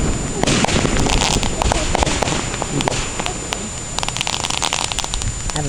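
Fireworks burst in close, rapid succession, making a dense, loud barrage of sharp cracks and booms over a noisy background with people talking.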